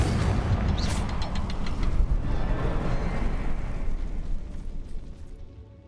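A Confringo fire spell blast in the game Hogwarts Legacy, a loud sustained fiery roar and rumbling burst that fills the scene for several seconds before tapering off at the end.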